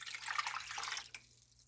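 About one and a half cups of water poured into a pot holding chicken pieces, a short splashy stream lasting around a second before it cuts off, with no talking.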